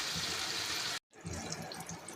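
Water poured into a pan of simmering potato and egg curry, a steady splashing pour that cuts off abruptly, then a softer trickling wash of liquid settling in the pan, close and alone.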